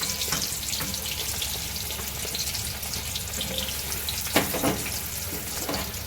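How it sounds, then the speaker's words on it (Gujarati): Sliced onions sautéing on low heat in a pan for dahi tikhari, a steady soft sizzle with occasional stirring clinks, no voices. "હલકી પાતળી થોડી તો થાય ત્યાં સુધી આપણે ડુંગળી સતરાઈ દઈશું"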